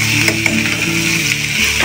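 Chopped onions hit a hot pan and fry with a continuous crackling sizzle, a few stirring scrapes on top, close and loud with no talk.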